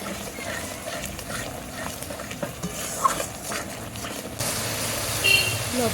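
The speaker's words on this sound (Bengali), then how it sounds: "জল দেবো গরম জল হুম মশলাটা ভালো করে কষে নেব" Spice masala with dried chilli paste and hot water is stirred and fried in a pan for an egg and green jackfruit curry, giving a steady close sizzle with scraping stirs throughout.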